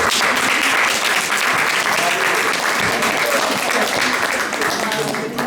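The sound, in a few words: audience applause for the Cotonou city hall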